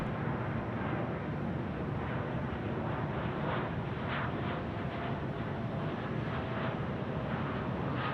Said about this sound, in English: Jetstar 3 now getting away the 787 in this beautiful afternoon light